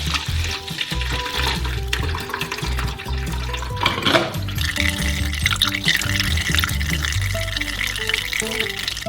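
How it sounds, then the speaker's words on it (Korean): Liquid is poured through a sieve into a bucket, making a continuous splashing, trickling pour with some stirring and clatter, over background music. "채로 걸러 양동이에 부어주세요."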